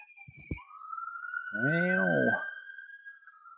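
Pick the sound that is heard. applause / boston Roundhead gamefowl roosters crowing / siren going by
siren going by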